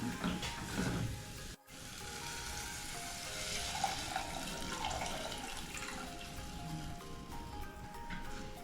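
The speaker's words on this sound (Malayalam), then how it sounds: "പിന്നെ നമ്മൾ പുളി എടുത്തു വെച്ച പുളി വെള്ളം അതിലേക്ക് ആഡ് ചെയ്തു" Tamarind water poured into a Kerala Kottayam-style spicy tuna curry, giving a steady, soft rushing pour with faint clinks and mechanical ticks, fairly quiet and continuous.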